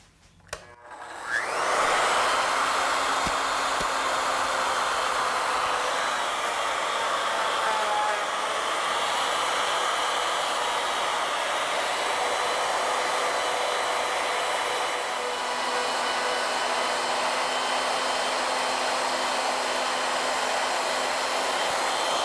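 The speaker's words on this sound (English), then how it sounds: "I'm going to mill the stock round, cutting from the headstock towards the tailstock." A router on an ornamental mill cuts wood stock round, working from headstock toward tailstock: a loud, steady high-pitched whine that spins up after a brief start and holds continuously throughout.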